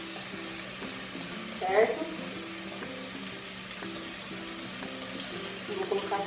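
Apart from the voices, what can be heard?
seasonings sizzling in hot oil in a pan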